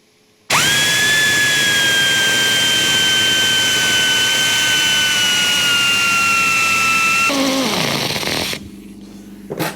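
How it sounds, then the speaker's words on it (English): An air compressor in a workshop during a Royal Enfield bobber build runs loud and steady with a high whine for about seven seconds, then shifts and cuts out near the end. "wait for the compressor to get its breath back"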